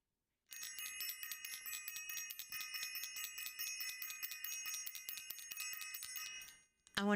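A bell rings in a rapid, continuous metallic trill for about six seconds, bright and fairly close, then cuts off abruptly.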